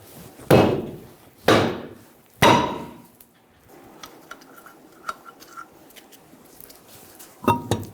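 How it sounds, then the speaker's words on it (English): Three heavy blows from a dead blow hammer against the back of a stuck wheel rim on a 2000-2007 Ford Focus in a garage, then quieter metallic clinks and rattles, all close. "we're going to hit the rim on the back."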